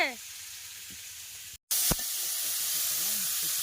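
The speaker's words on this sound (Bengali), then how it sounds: "তরকারিটা কষাই হচ্ছে এখন" Curry sautéing in a hot pan, with tangra fish in the cooking, gives off a loud, steady sizzle and hiss that runs throughout, broken by one brief dropout and a clatter partway through.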